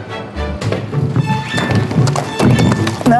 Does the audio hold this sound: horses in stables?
yes